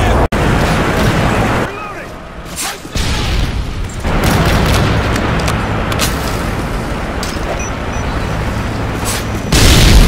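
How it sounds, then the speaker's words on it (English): Airstrike explosions in a multiplayer war video game rumble as loud, broadband booms, with a dense, sustained roar through most of the stretch, a brief lull in the middle and a sharp burst near the end. "Enemy airstrike approaching"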